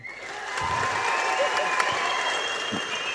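An audience at the Nimirnthu Nil film audio launch breaks into steady applause, a dense, even wash of clapping that fills the hall for a few seconds.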